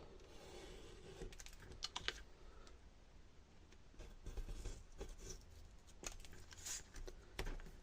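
A worn craft knife cutting paper while making a wedding mini scrapbook album, faint close scratchy slices and light taps in short irregular bursts over a quiet room.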